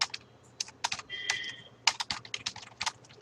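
Typing code on a computer keyboard, a quick, irregular run of close, crisp key clicks with short pauses between bursts and no talk.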